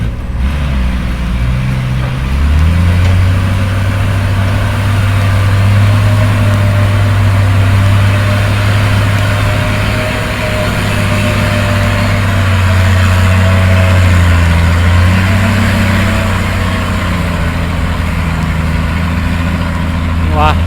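A Kobelco SK200-8 Super excavator's diesel engine runs steadily at a reservoir in sticky clay, a loud low drone that swells and eases as the machine works.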